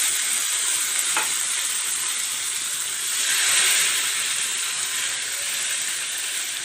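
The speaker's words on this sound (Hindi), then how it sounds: "इसमें मैं ये सॉस डाल रही हूँ जो मैंने ब्लेंड की हुई थी। छींटे उड़ेंगी," Blended sauce hits a hot pan for a chicken shawarma platter, setting off a loud, dense, unbroken sizzle and spatter that swells slightly midway, up close and alone.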